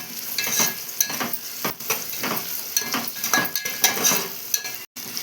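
Dried red chillies fry in hot oil in a pan with a steady sizzle, broken up by repeated scraping and clinking as a spoon stirs them, close and fairly quiet.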